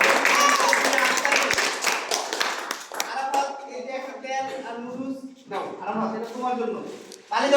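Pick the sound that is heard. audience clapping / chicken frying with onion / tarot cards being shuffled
audience clapping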